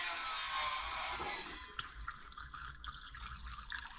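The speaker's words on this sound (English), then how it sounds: "you might hear it fizzle a little bit when I pour this in" Evaporust being poured into a rusty 1984 Yamaha Virago motorcycle fuel tank: a steady rushing splash of liquid falls into the metal tank, then eases into fainter gurgling and trickling.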